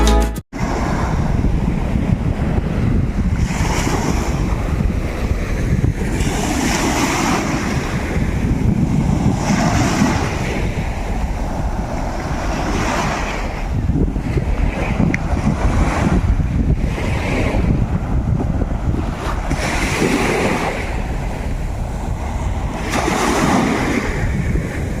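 Surf rolls in steady surges at North Pattaya sea beach in Thailand, with wind buffeting the microphone throughout, loud and close, with no voices.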